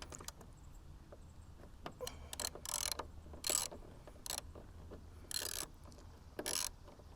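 An 8 mm socket ratchet working on a Honda Goldwing mirror, giving several short, close clicking bursts at uneven intervals with quiet pauses between them.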